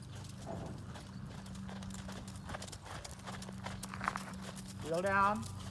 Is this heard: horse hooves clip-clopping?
yes